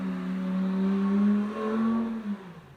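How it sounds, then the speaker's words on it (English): A fast car passes by outside a window, its engine rising and then falling in pitch as it goes, heard indoors as a smooth, continuous roar lasting a couple of seconds. "You can hear a really fast car outside the window."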